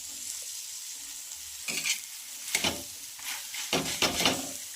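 Egg and spinach bhurji being stirred in a frying pan with fresh coriander, a steady soft sizzle broken by several scraping stirring strokes, close and alone.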